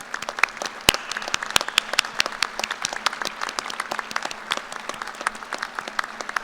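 Applause for graduate faculty at a fall commencement ceremony: a sustained, fairly moderate round of scattered individual claps from the hall, steady throughout with no talk.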